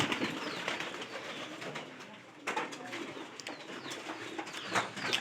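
Pigeons coo faintly amid a broad rustling hiss of straw and movement, with scattered soft clicks and taps close by.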